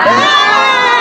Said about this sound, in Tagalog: Sigawan.